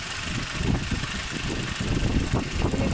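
A 2002 Audi A4 B6 sedan with the 2.0 petrol ALT engine idles with an odd noise, a steady low rumble heard up close with no talk.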